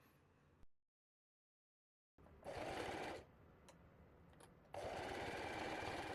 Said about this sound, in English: I clipped everything in place and stitched around the curved edge.